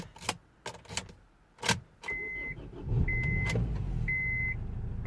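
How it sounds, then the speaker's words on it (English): A Honda Accord 2.2 CTDI diesel engine cranks and starts after a few clicks and jangles of keys, then settles into a steady, fairly loud idle. "let's start the engine again"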